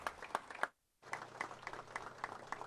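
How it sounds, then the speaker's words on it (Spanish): Audience applause at a presidential event in Carchá, Alta Verapaz, Guatemala, heard as a thin, scattered patter of clapping with a short break partway through, fairly faint and moderately distant. "Fuertes aplausos, por favor."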